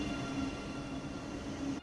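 Steady rumble and hum of a passing train in the Train Sim World 2 simulation on the Munich–Augsburg main line, continuous and moderately loud, no voices.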